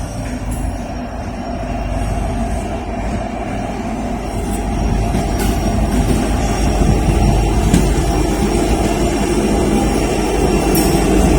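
Eastbound intermodal freight train rolling past a trackside defect detector in Lynchburg, Virginia, a loud continuous rumble and rail roar that builds gradually and holds steady, with faint clicks of wheels over joints.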